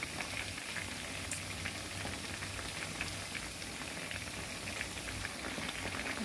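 Garlic frying in oil alongside chicken wings, a steady, even hiss of sizzling with fine crackling pops throughout, close and constant with no talk.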